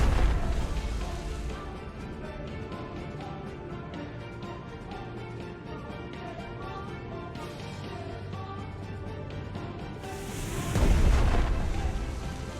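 Submarines attack an aircraft carrier in the naval strategy game Strategic Mind: The Pacific, with rumbling explosions over a musical score and a heavy, loud boom bursting out near the end.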